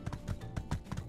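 Horse hooves clip-clop in quick, even rhythm as a mount gallops through My Time at Sandrock, the thudding steps faint and close without any talk.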